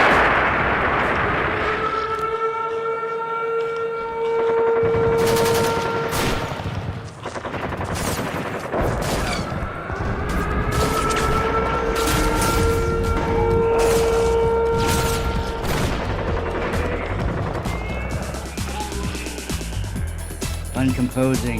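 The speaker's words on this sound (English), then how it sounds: "Back to the bombing." Artillery bombardment with gunfire, dense overlapping booms, rapid shots and bursts churning loudly throughout, with a voice and sustained tonal sounds running underneath.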